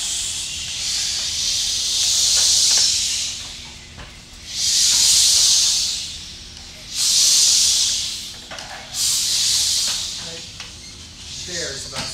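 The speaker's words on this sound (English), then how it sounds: "Okay, everybody go shh." A class of children go shh together in four loud, drawn-out hissing bursts separated by short pauses, with an adult's voice faintly audible in between.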